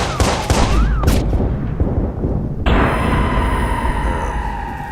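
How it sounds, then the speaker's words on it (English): Gunfire in the video game Watch Dogs, dense crackling shots and bursts amid chaotic noise, then a sharp shift to a brighter ringing, hissing texture, loud and without talk. "Shots fired! You're in the line of fire!"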